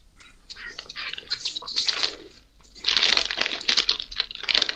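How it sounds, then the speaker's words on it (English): Someone nearby crunching and crinkling through chips, with bursts of crisp rustling and chewing that come and go, louder in the second half, under low background murmur. "I hear Jeff eating chips"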